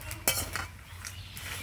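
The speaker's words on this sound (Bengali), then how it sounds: "দেওয়ার পর লবণের সঙ্গে এভাবে ওলটপালট করে নেব।" Peanuts tossed in hot salt in a pan over medium heat, heard as a short run of gritty scraping and light metallic clinks from the spoon against the pan, close by with no talking.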